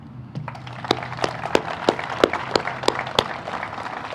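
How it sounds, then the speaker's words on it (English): A small outdoor audience at a groundbreaking ceremony for Westminster's Boulevard Drinking Water Facility gives a sparse round of applause for the city council. Only a few separate, sharp claps ring out at an irregular beat. "I would really like to thank our Westminster City Council and pause here for a round of applause."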